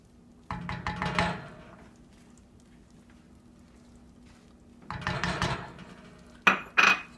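Peanut butter mixed into a milk mixture in a bowl, two bursts of spoon scraping and clinking against the bowl separated by a quiet pause, ending with a couple of sharper knocks.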